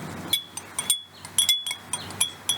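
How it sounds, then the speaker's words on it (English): A spoon stirs oil and food coloring drops in a glass jar, making a run of bright, irregular clinks against the glass, close and fairly loud, separated by brief pauses. "So I'm going to stir it up a little bit."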